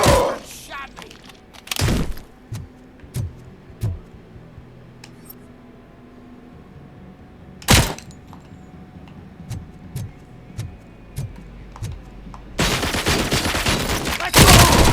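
Gunfire in the RoboCop Rogue City video game, with a few sharp, loud isolated shots and scattered thuds among quieter impacts, ending in a sustained burst of rapid fire.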